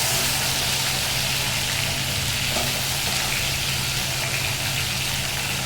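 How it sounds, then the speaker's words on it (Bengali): Oil heats and fries vegetables in a wok, a loud dense sizzle running steadily throughout, close and with no speech. "এরপরে আমি আবার কড়াইয়ে তেল দিয়ে দিলাম।"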